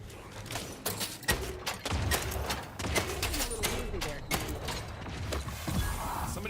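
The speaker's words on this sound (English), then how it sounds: "Somebody from the base started shooting me." Rapid, repeated gunfire from a shooter video game, bursts of shots scattered throughout with game sound effects and voices underneath.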